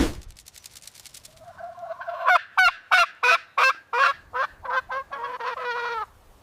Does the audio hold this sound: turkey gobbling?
yes